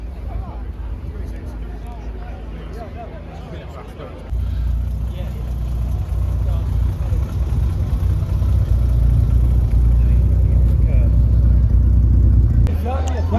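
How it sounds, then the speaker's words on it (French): TVR Tuscan engine rumbling low and steady, growing louder partway through and holding a deep mid-range drone while someone talks over it at an outdoor car gathering. "Une TVR Tuscan."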